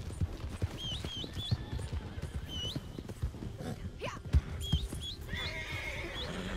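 A horse in the Red Dead Redemption 2 video game whinnies once amid a steady clatter of hooves, the neigh rising clearly over the galloping rhythm.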